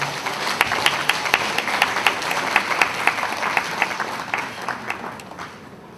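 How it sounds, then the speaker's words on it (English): Audience applause at an anniversary awards ceremony for community award winners, a steady wash of many hands clapping with sharp individual claps standing out, sustained throughout and tapering slightly near the end. "Please give them a round of applause."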